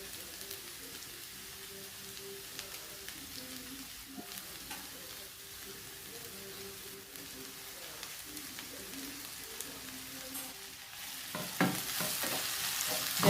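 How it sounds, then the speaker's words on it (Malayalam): Onions with green chili and tomato sautéing in a pan, a low steady sizzle with soft stirring scrapes throughout, swelling into a louder, brighter hiss near the end. "ഇതൊന്ന് വഴറ്റിയ ശേഷം നമുക്കിതിലേക്ക് ഒരു പച്ചമുളകും ഒരു ടൊമാറ്റോയും കൂടി ഇട്ട് കൊടുക്കാം."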